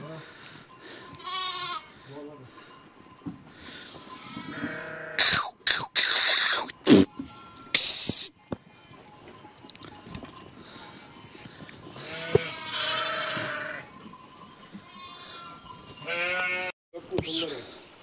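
Sheep bleat repeatedly on a mountain pasture, with several wavering calls near and far spread throughout. Someone talks over them, and there are sharp bumps and handling noises.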